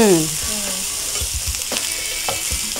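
Onions sizzling and frying in a pan for chicken curry, a steady hiss with occasional stirring scrapes and clinks, close and moderately loud, no talking.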